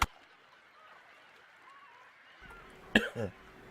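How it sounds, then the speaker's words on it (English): A person coughs briefly during a recording of the game Pillars of Eternity, a short close burst of two or three harsh coughs near the end, after quiet background game ambience. "you'll know that I'm coughing"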